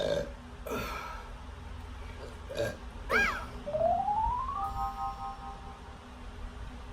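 A woman burps after drinking sparkling water, several short belches spaced across a few seconds with one longer drawn-out burp, close to the microphone.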